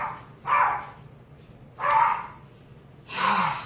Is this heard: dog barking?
yes